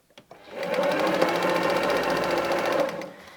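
A sewing machine stitches a seam on fabric and locks it with a backstitch, a steady close motor whir with rapid needle clatter that runs evenly for about three seconds after a couple of short taps.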